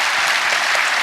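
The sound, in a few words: applause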